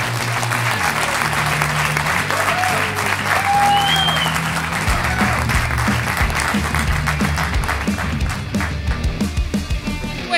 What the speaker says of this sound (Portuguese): Senhoras e senhores, recebam com um forte aplauso o meu primeiro convidado,